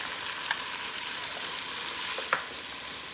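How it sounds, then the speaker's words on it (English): A tablespoon of minced garlic sizzles steadily in melted butter on a stovetop for tuna casserole, a dense, even hiss with a couple of faint clicks from a utensil. "Now I'm going in with my tablespoon of minced garlic."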